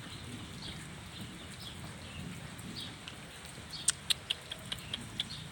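Rain falls outdoors at night in rural Thailand, a steady soft hiss with low rumble, broken near the end by a few sharp, distinct clicks; nobody speaks.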